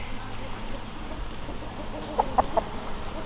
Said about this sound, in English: So look at these beautiful hens.